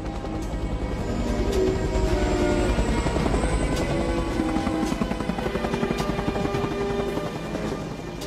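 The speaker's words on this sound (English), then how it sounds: "wait till the helicopter takes off" A helicopter's rotor thumps and whines steadily throughout, loud and close, with a constant engine drone underneath.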